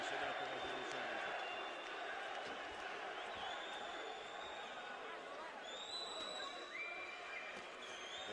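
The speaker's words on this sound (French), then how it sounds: "Et la foule qui se met à encourager Lucien Boutet." A boxing arena crowd cheers on Lucian Bute during his fight against Berrio, a dense, sustained roar of voices with whistles, under a commentator speaking.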